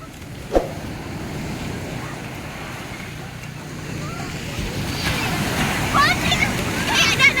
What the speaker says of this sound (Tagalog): Kaya lang kasi lakas ng alon.